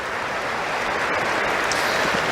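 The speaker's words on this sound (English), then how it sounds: "Cameron Norrie, who gets a wonderful ovation" Sustained ovation from a Wimbledon crowd for Cameron Norrie after his semi-final run ends, a dense, steady wash of applause filling the whole stretch at even loudness.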